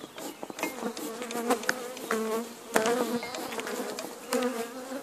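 A dense, steady hum of honeybees at an open hive while a beekeeper makes an artificial swarm, with individual bees whining loudly past up close and faint handling knocks.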